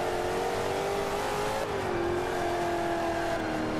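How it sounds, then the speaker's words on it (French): A Chevrolet Corvette engine in the racing game Forza Motorsport 5 holds a steady, aggressive high drone that drops pitch as it shifts gears; the sound is continuous and moderately loud, with no speech. "Mais le moteur est quand même très agressif"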